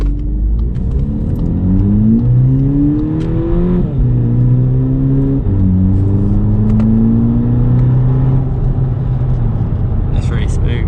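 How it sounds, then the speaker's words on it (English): A Volkswagen Golf GTI engine drones loudly from inside the cabin as it accelerates. Its pitch climbs in steps through the gears, with clear drops at each shift, and the steady road rumble continues underneath throughout. "First driving the Golf GTI."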